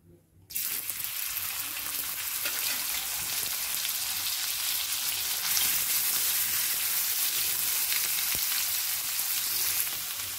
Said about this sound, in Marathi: तर मी गोल्डन कांदा भाजून घेणार आहे आता बघा.